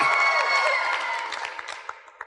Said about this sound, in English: Big round of applause to Ryan.